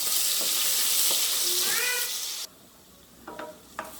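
Ginger and green chilli paste sautés in a pan for chilli chicken, a steady close sizzle that cuts off abruptly, leaving brief faint clinks and scraping.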